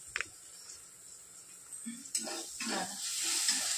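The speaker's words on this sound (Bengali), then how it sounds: "ওই যা পেঁয়াজ বোধহয় পুড়ে গেল" Onions fry for pulao in a home kitchen pan, giving a soft sizzle with scattered stirring scrapes and light utensil clicks, fairly quiet and close.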